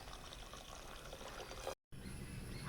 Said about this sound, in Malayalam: ചാമൊന്ന് കഴുകിയെടുക്കുക